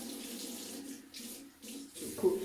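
Tap water running into a sink while a face is rinsed after a peeling solution, a faint, soft continuous splash that swells briefly near the end.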